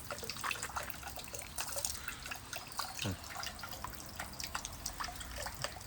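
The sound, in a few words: water dripping as hands are washed at a Tokyo temple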